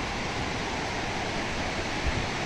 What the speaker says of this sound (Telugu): సో వెనకాలైతే మీరు చూడొచ్చు బ్యూటిఫుల్ సరుగుడు వాటర్ ఫాల్స్